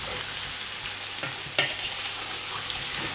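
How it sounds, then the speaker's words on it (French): Sausages tinted with saffron-turmeric stirred in a frying pan, a steady close sizzle with a few scraping spoon knocks against the pan, no voices. "On va bien mélanger tout ça."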